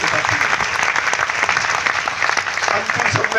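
Loud, sustained applause from a large crowd at a live rally in Rohtak, dense clapping throughout with a voice shouting over it.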